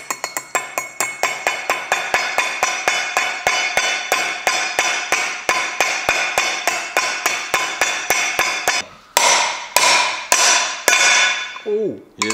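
A hammer drives a bearing race into the brake drum of a 1955 VW Beetle: a rapid, even series of sharp metallic blows, close and loud, then a few heavier, more spaced strikes with a ringing clink near the end.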